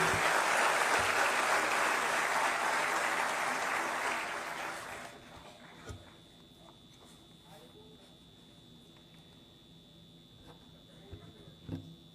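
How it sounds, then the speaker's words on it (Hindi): Loud, dense applause for the chief minister at a formal government ceremony in Uttar Pradesh, sustained for about five seconds before fading into a quiet hall with faint scattered sounds and a steady electrical hum. "जोरदार तालियों के प्रणाम निवेदित करते हुए"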